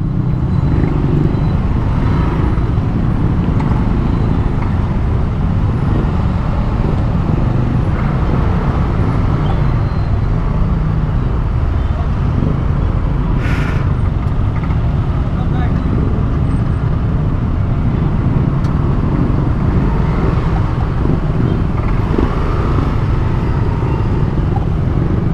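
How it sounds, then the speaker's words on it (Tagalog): Dense bumper-to-bumper road traffic recorded from a motorcycle on a city street. Engine rumble and roadway noise form a continuous loud wash, with a brief sharper sound partway through. "Bumper to bumper ang traffic nato dre."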